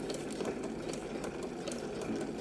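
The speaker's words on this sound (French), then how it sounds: "Je vais allonger mon point jusqu'à 5. Et je vais continuer à coudre." A domestic sewing machine running steadily while stitching a long basting stitch on fabric for a sleep mask, its fast motor whir and needle clatter continuous and close with no talk.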